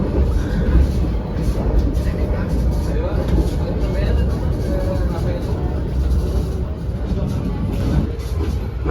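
Ciremai passenger train runs along the rails, a loud steady low rumble and roar heard from inside the carriage with faint clattering, while a person talks over it throughout.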